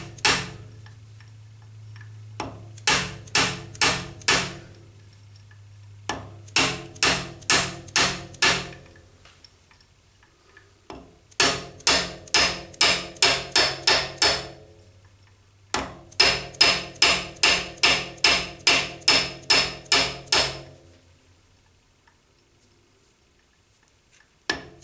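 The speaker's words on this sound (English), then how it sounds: "soft hammer and we'll just give that a tap." Bursts of rapid, sharp metallic taps from a soft hammer striking a part while stripping a Cormack ZX7045 mill head, in several rhythmic runs separated by short pauses, close and fairly crisp.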